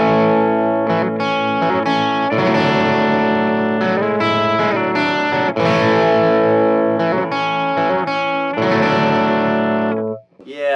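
Electric guitar through a Marshall amp dialed to a somewhat clean tone, with bright, crunchy chords and riffs played loud and close in bursts, alone and without talking.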